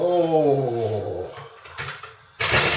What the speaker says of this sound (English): I've just broken the butter dish, it's gone on the floor